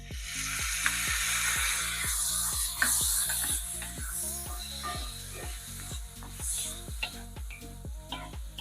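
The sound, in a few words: garlic sautéing in a pan for vegan pepper steak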